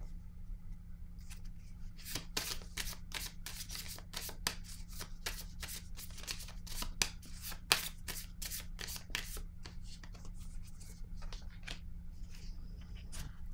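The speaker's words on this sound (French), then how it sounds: "Je vais piger une autre carte ici." Tarot cards are handled and drawn from a deck during a Scorpio reading: a rapid run of crisp card snaps and riffles from about two to nine seconds over a steady low hum, then quieter handling with no talk.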